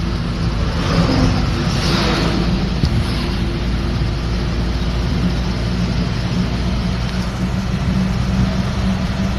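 A loaded goods vehicle drives along a road, its engine droning in a steady, loud, continuous rumble with road noise throughout and no talking.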